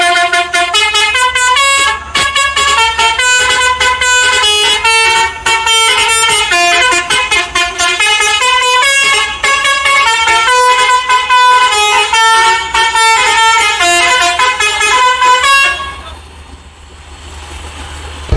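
A bus horn from Bus Simulator Indonesia blares a loud, sustained, multi-tone musical honk pattern with rapid rhythmic pulses for about fifteen seconds before cutting off into quieter engine noise.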